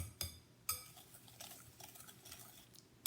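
A whisk stirs sugar into a soft cake mixture in a bowl for a caramel pineapple upside-down cake, giving faint, quiet scraping with a few sharp clinks against the bowl.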